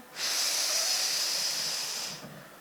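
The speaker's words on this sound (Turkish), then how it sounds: "derin nefes al." A single deep inhalation, close and airy, rises sharply into a long steady hiss and then fades after about two seconds, with no speech.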